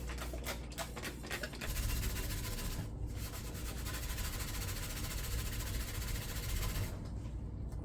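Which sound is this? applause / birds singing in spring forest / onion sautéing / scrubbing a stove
scrubbing a stove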